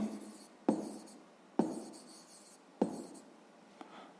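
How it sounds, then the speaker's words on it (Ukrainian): A pen writes an answer to a sixth-grade maths exercise on paper, three distinct scratchy strokes each starting sharply and tapering off, close and quiet, with a softer tap near the end. "записуємо тоді відповідь, пишемо відповідь"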